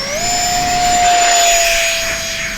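An E-flite Habu STS 70mm electric ducted-fan model jet screams at full throttle, a loud, close, steady high-pitched whine that rises slightly in pitch and then holds for a couple of seconds.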